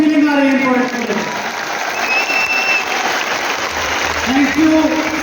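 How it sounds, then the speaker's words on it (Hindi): Big crowd at an event in Delhi's Tyagaraj Stadium applauding, a broad continuous wash of clapping with a voice speaking over it and sustained tonal sounds near the start and end. "तो तालियां उतनी बजाइए जितनी आपको फीलिंग आ रही है प्रोडक्ट के लिए।"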